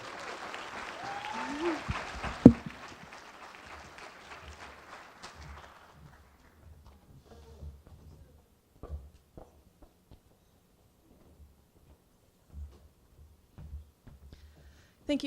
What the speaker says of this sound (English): Let's give another round of applause for the undergraduate award recipients.